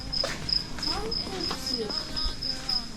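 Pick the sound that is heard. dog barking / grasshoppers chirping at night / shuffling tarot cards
grasshoppers chirping at night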